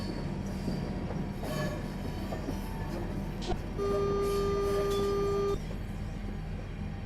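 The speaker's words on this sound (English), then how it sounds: "It tried to play the horn sound and then it switched to the AWS sound, which is a bit weird." A steady two-tone AWS warning tone sounds in a train simulator on the Chatham Main Line, held for about two seconds over continuous rumbling train running noise.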